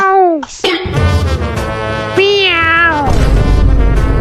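A cat meows loudly and close, several drawn-out rising and falling cries in quick succession, the last one with a rougher, strained edge.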